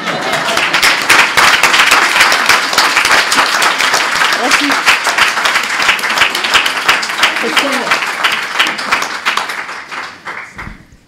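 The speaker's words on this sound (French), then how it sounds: "Maintenant, vous pouvez applaudir." Dense, loud applause from a conference audience at a mental health session fills the hall steadily, then thins and fades near the end as a single voice speaks briefly.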